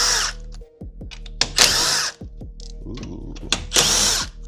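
An impact tool zips wheel lug nuts loose in short, loud bursts separated by brief pauses and clanks of metal parts, up close; a person briefly exclaims.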